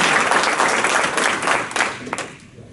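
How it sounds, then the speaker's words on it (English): A room full of people applauds in a short burst, dense clapping that thins out and fades toward the end. "Let's give Lisa and Aaron a round of applause"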